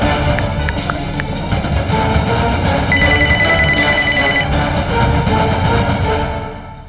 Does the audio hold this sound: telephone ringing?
yes